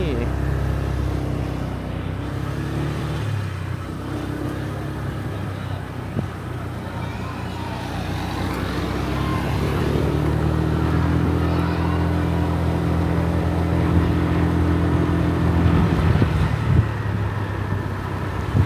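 A motorcycle engine hums continuously while riding along a road toward a market, with wind buffeting and a slight rise in engine pitch partway through, and voices talking over it.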